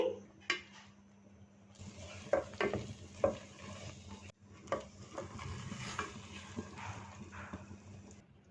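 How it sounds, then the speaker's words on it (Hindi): A spoon stirring about 1.5 kg of milk at a boil in a pan on low heat while making khoya for gulab jamun, with soft scrapes and occasional clinks over a low, steady simmering hiss. "एक दफ़ा इसमें चम्मच चला देंगे।"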